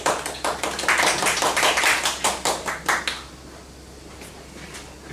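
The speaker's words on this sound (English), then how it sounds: "Let us welcome him with a round of applause" An audience in a conference room at a citizenship education event applauds a presenter with dense, steady clapping for about three seconds, then a few scattered claps trail off into room tone.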